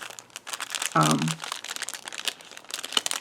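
A glassine envelope for a botanical paper journal is handled and crinkles, with dense, papery rustling throughout, a brief louder burst near the middle, and someone speaking over it.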